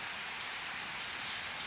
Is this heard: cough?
no